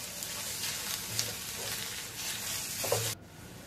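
Beetroot frying in a pan with salt as it is stirred, a close, steady sizzle with soft scraping of the spoon, cutting off abruptly near the end.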